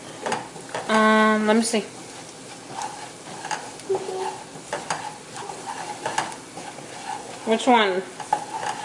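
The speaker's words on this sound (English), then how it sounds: "you're just going to stir it until it's completely gone" Stirring béchamel white sauce in a pot, a soft scraping and sizzling close by. Voices talk over it throughout.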